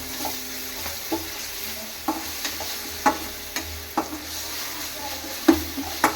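Tomato sautéing with ginger-garlic paste in a pan for chicken sukka: a continuous close sizzle punctuated by regular clacks and scrapes of a spoon stirring against the pan, with no talking.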